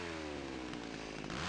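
A chainsaw roars from the horror video game Cry of Fear, loud and near, its rasping engine holding a steady pitch with a slight dip partway through.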